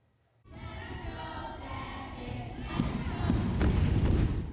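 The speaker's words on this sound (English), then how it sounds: "More than 100 students cheering and stomping in unison" More than 100 students stomp in unison and cheer for a Canadian Olympic luger, a sudden onset of dense rhythmic thudding and crowd noise that swells louder toward the end.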